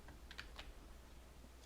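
Computer keyboard keys are pressed in a few quick, light clicks that sound close, set against a steady, faint background hiss.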